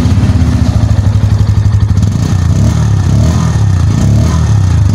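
A red 2022 Bajaj Pulsar N160 ABS motorcycle engine runs close and loud with a steady, throbbing, rhythmic idle and slight rev variation.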